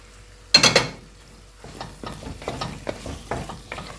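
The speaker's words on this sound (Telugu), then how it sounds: "ఇప్పుడు దీంట్లోకి ఇదిగో చికెన్ తీసుకున్నాను కదండి వేస్తున్నాను" Chicken pieces dropped into a hot pan burst into a loud sizzle, followed by steady frying with repeated scraping stirs of a utensil against the pan.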